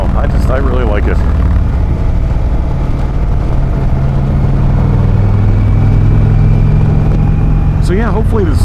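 A 2019 Indian Chieftain Limited motorcycle with a 111 V-twin engine and rear cylinder deactivation idles up close, a steady low throbbing rumble with someone talking over it at the start and end.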